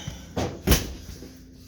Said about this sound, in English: Let's see if I can't close the door behind me